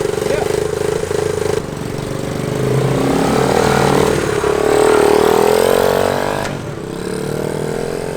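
A barn-find motorcycle engine, a three- or four-speed bike revived on a $100 budget, runs steadily close by and rises into a few swelling revs, with people talking over it.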